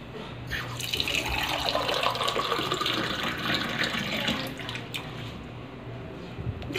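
Tap water runs steadily into a pot for boiling lemongrass, a continuous splashing and filling sound with a slowly rising pitch, close and alone.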